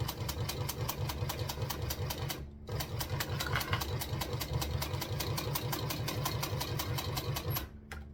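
Sewing machine stitching fabric, a fast, steady mechanical chatter running close and continuously, pausing briefly once near the middle and again at the end as the needle stops to pivot.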